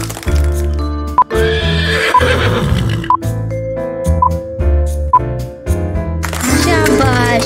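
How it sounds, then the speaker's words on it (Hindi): A horse whinnies in a children's animal-naming lesson, with several loud neighs and snorts spread across the clip amid other layered animal and music sounds. "शाबाश, ये घोड़ा है।"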